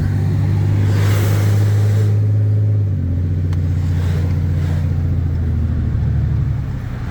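The engine of a John Deere Gator utility vehicle towing a trailer runs loud and close, holding a steady low drone that shifts slightly in pitch around three seconds and continues evenly to the end.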